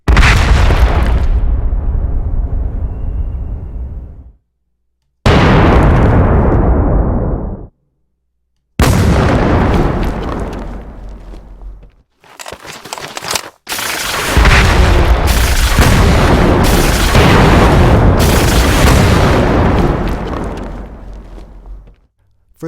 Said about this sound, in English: 3 randomly triggered explosions